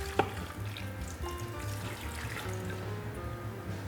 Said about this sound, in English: I'm gonna pour our sauce over the top.